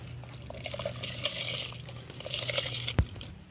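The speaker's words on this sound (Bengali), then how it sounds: "তো আমাদের জলটা গরম হয়ে গেছে, আমি চালটা দিয়ে দিচ্ছি।" Soaked rice for a catla fish biryani goes into a pot of hot water with a soft, continuous watery wash, then a single sharp knock or splash near the end.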